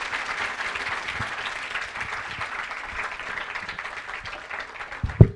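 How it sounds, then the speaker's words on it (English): An audience at an education event claps steadily for a deputy director, a broad even patter of many hands held at moderate level, ending with one sharp louder knock. "Sir के लिए एक बार clapping कर दें हम"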